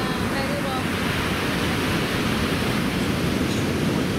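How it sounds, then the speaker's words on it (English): Big ocean waves surge at Candolim Beach in Goa, a loud, continuous roar of surf that fills the whole stretch without a break. "big waves coming."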